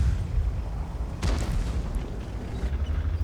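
A heavy boom bursts out of a steady low rumble as a tank fires and an explosion lands in a World of Tanks battle, one sharp blast followed by a decaying roar.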